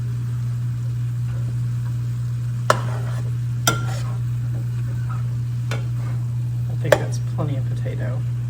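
A pan of picadillo filling with ground meat, carrots and potato is stirred, giving a few sharp scrapes and clatters over a steady low hum.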